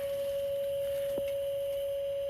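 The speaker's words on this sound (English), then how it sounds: "but it's the noise of this fan back here." The rear cooling fan on a 2023 Can-Am Outlander 850 Hunting Edition ATV gives a steady, unbroken whining hum at one even pitch over faint background noise, with no talking.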